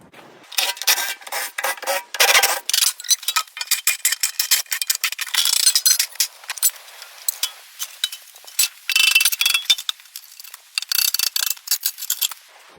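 A socket wrench loosens nuts on a Weber grill being taken apart for scrap, giving rapid bursts of close, loud ratcheting clicks in repeated runs with brief pauses between them.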